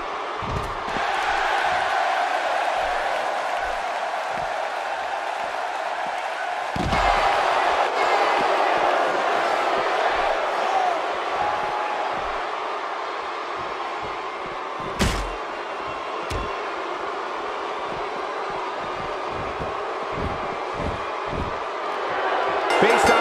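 A loud wrestling arena crowd roars continuously through a women's match between Beth Phoenix and Kelly Kelly at a TLC event, with thuds and slams from the ring, and a commentator talking over it.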